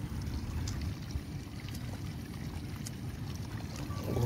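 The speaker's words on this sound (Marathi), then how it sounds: "बघा इकडे कसं पाणी येते बघ" Water flows out through an outlet in a flooded rice field in a Konkan village, a soft, steady gurgling rush heard close and low, with faint rustling and no talk.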